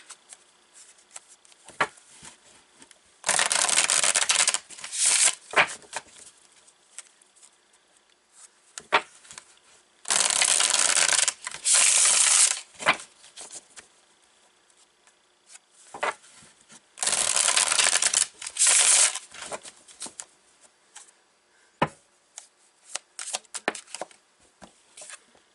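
Tarot cards being shuffled in three dense riffling bursts, with soft taps, slides and card flicks as cards are pulled between them, close and clear in an otherwise quiet room.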